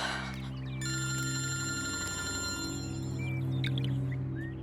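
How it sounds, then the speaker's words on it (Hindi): A telephone rings on and on without being answered, a bright steady electronic ring close by with faint background sounds underneath, in a horror drama scene. "ये फोन क्यों नहीं उठा रही है?"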